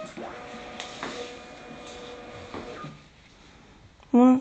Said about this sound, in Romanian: Imprimanta intră într-o procedură de calibrare.